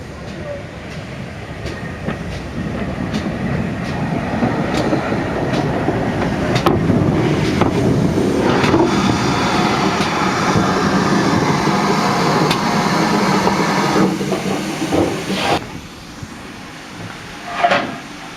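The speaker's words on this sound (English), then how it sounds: "we're just waiting for the train to come" A steam train rumbles past nearby, a broad steady roar with rhythmic clattering of wheels, swelling and then fading near the end.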